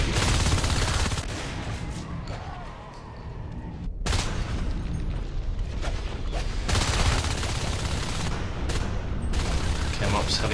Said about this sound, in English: There's a shotgun, another missed shotgun blast there.